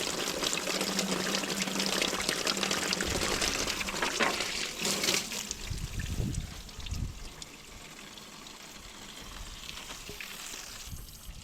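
Water flushing out of the cooling system of a Massey Ferguson 245 tractor that is overheating, a steady gushing splatter close by that shifts in strength, with a few knocks partway through and a quieter trickle toward the end.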